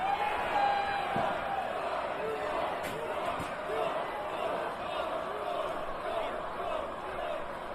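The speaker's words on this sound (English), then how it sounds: "crowd is blood hungry and thirsty for vengeance here tonight" A large wrestling crowd roars steadily at a New Japan Pro-Wrestling event, Capital Collision 2024, a dense continuous wall of arena noise with scattered shouts and a couple of sharp thuds, while a commentator talks over it.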